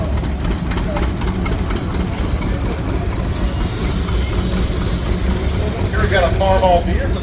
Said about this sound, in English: Here we've got a John Deere 60. This is 1954.